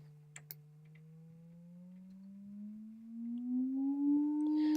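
A synthesized sine wave from a Max 7 oscillator sounds as a smooth, pure tone that glides slowly upward in pitch and swells louder, with a couple of faint clicks near the start.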